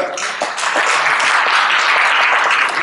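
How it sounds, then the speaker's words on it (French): Loud, sustained applause from a conference audience at a French heritage event, dense and continuous for about three seconds, with a few individual claps standing out at the start. "On applaudit Stéphane"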